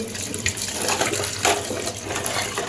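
Tap water runs steadily and splashes while lentils are rinsed in a kitchen, making a close, continuous hiss with small clatters and no voice.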